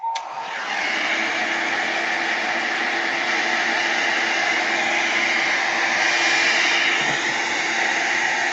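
A hair dryer runs steadily, drying a layer of paint on an abstract journal page, a loud continuous whooshing blow that starts with a click and holds for several seconds with no talk.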